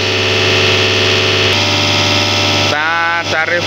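A Bosch Panther diesel injection pump runs on a test bench with its flywheel turning, giving a loud, steady mechanical drone with a strong hum. Near the end the tone shifts and becomes rougher.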